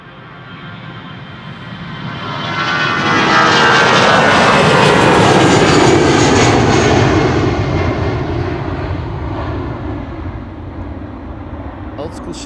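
Airbus A320 airliner departing Amsterdam Schiphol Airport, its engine roar swelling from a distance to a loud peak and then slowly fading, with no talking.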